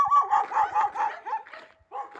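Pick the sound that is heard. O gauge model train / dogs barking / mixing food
dogs barking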